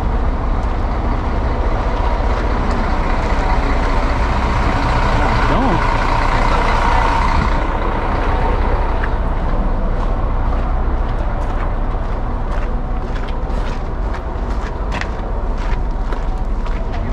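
Heavy vehicle rumble fills a busy tour bus parking area in Santorini, with low engine drone and traffic noise throughout, footsteps and people talking over it.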